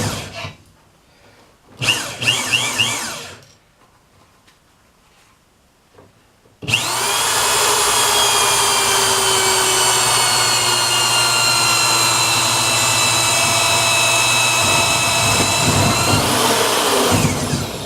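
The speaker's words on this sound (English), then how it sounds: "We'll pull the drill and engage the hydraulics and see what happens." An electric drill powers the hydraulics of an electric wood splitter, starting after a few short bursts and quiet gaps, then whining loud and steady for about ten seconds before stopping, with no talking.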